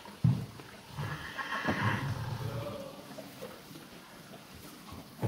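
Lipizzaner mares and foals in a stable at a stud farm in Beclean; one horse gives a clear whinny near the start, followed by quieter stirring and a few hoof clops in a calm, fairly quiet space.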